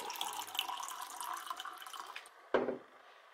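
Water poured from a tap or jug in a beach house kitchen in the morning, a soft continuous trickle that fades out, followed by one brief splashy clink near the end.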